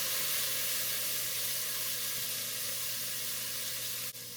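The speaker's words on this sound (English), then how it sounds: "I'm going to saute this onion for about 5 minutes" Onion sautéing in a pan gives a steady, moderately quiet sizzling hiss that holds even throughout, with a low hum underneath and a brief dip near the end.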